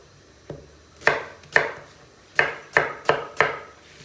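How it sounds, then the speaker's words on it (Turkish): Knife chopping seeded peppers on a cutting board for a home-cooked Turkish dish, seven or so distinct, unhurried chops spaced irregularly, close and clear in a quiet kitchen. "Bunları çok fazla ince doğramayacağız."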